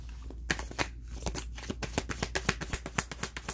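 Tarot cards riffled and cut in a steady run of crisp, rapid flutters and slaps, close and fairly quiet, with no talk over them.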